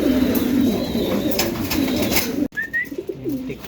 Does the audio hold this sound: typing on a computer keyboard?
no